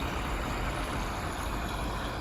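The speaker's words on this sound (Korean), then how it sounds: "물 넣고 있습니다" Steady rushing water filling an apartment water tank pours continuously, a broad close splashing wash with no pauses or voices.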